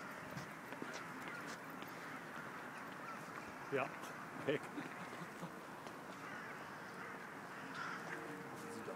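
Ravens being driven off at night from a city rooftop give a few faint, harsh calls around the middle, set far back in steady background noise, while people talk.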